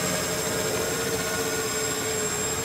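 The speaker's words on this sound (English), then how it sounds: "It's a stealth multi-rotor." A stealth multi-rotor drone flies at night, giving a steady, dense whir with a faint high tonal whine, loud and unbroken throughout with no speech.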